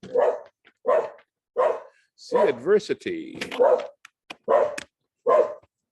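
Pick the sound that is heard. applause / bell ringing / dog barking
dog barking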